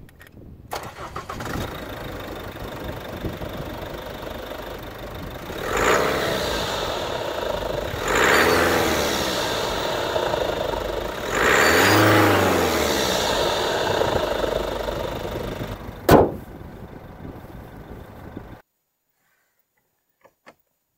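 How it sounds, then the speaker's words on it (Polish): An Isuzu D-Max 1.9 diesel pickup engine cranks to life and runs with a loud, rough idle, rising in a few revs before shutting off into silence. "Ogólnie silnik, mówiąc delikatnie, pracuje bardzo głośno i również w kabinie jest mocno słyszalny."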